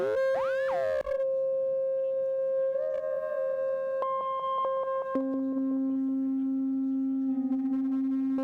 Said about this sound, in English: I'll send a sine wave.